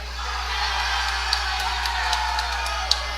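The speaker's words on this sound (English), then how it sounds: "Gets a big crowd, big hand from the crowd." Baseball crowd at a TBC Eagles versus Florida Palms game cheering and applauding with scattered whoops and yells, a steady distant roar of many voices sustained throughout.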